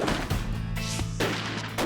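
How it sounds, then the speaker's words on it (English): Shotgun firing birdshot into stacked pizza boxes from about ten feet, heard as loud, abrupt blasts with short, booming tails, alone with no talk. "bangs off the bird shot from 10 feet"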